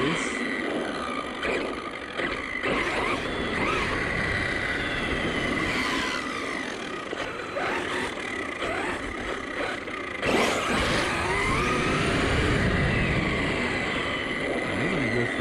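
An Arrma Talion RC car on dBoots Minokawa tires drives and pulls wheelies on pavement, making a continuous buzzing motor whine and tire rush while people talk over it.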